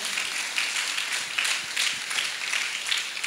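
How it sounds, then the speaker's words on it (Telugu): An audience claps together at a Guru Pournami meditation gathering in Tapeswaram, a steady, dense wash of hand claps with small swells, filling the room without pause and with no voices over it. "మనం అందరం గట్టిగా చప్పట్లు కొడదాం"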